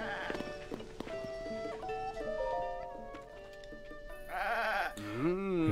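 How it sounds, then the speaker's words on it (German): White goats at the stable by the Tabanta bridge in the video game Zelda: Tears of the Kingdom bleat in a run of wavering cries, ending in a louder, closer bleat, alongside chiming game music. "Die weißen Ziegen vom Stall der Tabanta-Brücke."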